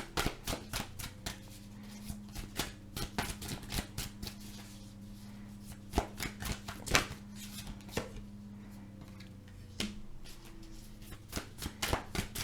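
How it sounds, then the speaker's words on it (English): Tarot cards are shuffled by hand, giving a steady run of quick, crisp riffling flicks and soft slaps, close and fairly quiet, with a faint low hum underneath and no talking. "I'm going to pull 3 final cards for my Cancers here."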